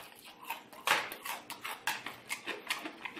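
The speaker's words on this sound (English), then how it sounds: "Just peep this little crunch here." Bites into crispy fried chicken produce repeated loud, close crunches in an uneven rhythm, each a sharp crackling burst, with no talking.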